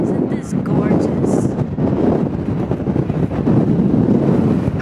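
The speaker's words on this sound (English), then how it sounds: "it was super windy" Strong wind buffets the microphone on a boat in Tokyo, a loud, steady roar of gusts with water and hull noise beneath, continuous throughout with no clear speech.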